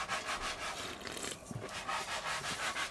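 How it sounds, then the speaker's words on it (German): Wooden boards being sanded by hand in a garden, a steady rasping rub that repeats in strokes, close and fairly loud, with no voices over it. "Alina schleift wie der Teufel"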